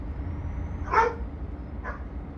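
A real dog barking somewhere in the room near someone driving a truck simulator, one clear bark followed by a softer second, both over a low steady hum.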